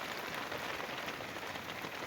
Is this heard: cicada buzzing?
no